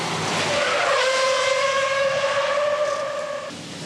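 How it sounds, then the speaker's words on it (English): Stunt cars tearing away on a closed-off Wall Street during a film shoot, with loud, sustained tire squeal held for about three seconds over engine roar before fading off. "On action, all the cars and stunt cars go."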